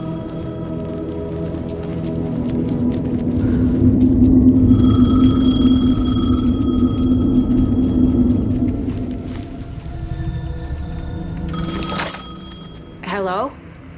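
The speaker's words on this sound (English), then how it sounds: "The payphone was ringing." A payphone rings in the video game Alan Wake 2, bursts of shrill bell ringing over a heavy low ambient rumble, with a brief sharp electronic sweep near the end.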